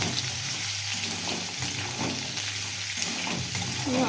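Potatoes fry in a pan with a steady, dense sizzle and crackle that holds even and fairly loud throughout, with faint stirring bumps underneath.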